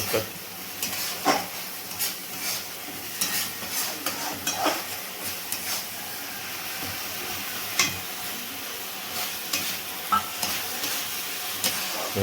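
Shrimp frying in a pan for a Bengali mustard prawn dish, a continuous close sizzle with repeated clinks and scrapes of stirring, and faint voices in the background.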